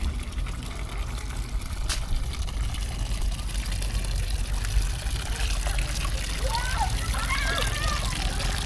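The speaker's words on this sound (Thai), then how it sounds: "มาล้างน้ำอยู่น้ำบาดาลล้างหน้ำไม้อยู่น้ำบาดาลเนาะ" Well water splashes and trickles as someone washes their face with groundwater at a rural home, a steady wet spatter under a voice talking.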